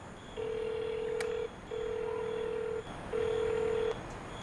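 Three steady electronic tones of an unanswered phone call ringing sound one after another with short gaps, each held about a second, clear and alone against faint background hiss.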